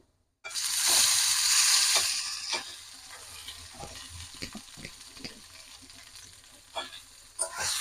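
Radish greens dropped into hot oil with lightly browned garlic set off a loud burst of sizzling that settles into a quieter crackle, with stirring knocks and scrapes near the end.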